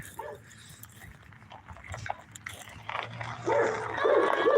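A puppy barks and yips in short bursts at a rural property entrance, moderately close, among outdoor noise and faint movement, the barking growing louder and more insistent near the end.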